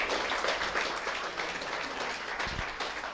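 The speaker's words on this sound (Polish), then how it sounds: "wielkie brawa" Applause from an audience at the opening of a photography exhibition on the beauty of the human body, a steady dense wash of clapping that runs evenly through the whole stretch with no voices on top.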